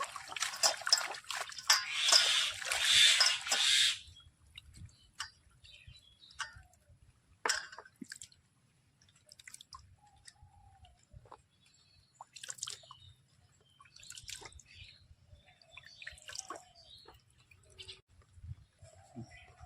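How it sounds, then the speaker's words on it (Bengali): Surimala flowers are rinsed by hand in water, opening with a loud burst of splashing and sloshing, then settling into scattered quiet drips and trickles with faint voices in the background. "এভাবে পরিষ্কার করে ধুয়ে নেবেন 2-3 বার জল দিয়ে"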